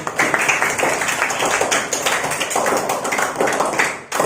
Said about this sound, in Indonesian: Tepuk tangan buat lagi Pak.